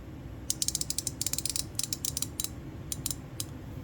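A Duratech 90-tooth ratchet is shaken, its pawl rattling out quick bursts of bright metallic clicks in uneven clusters, close and crisp with nothing else audible.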